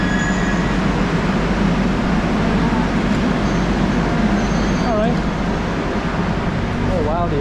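A steady, loud rumbling roar of a metro train car in Kerala, India, with its air conditioning blowing, continuous throughout, with faint voices underneath.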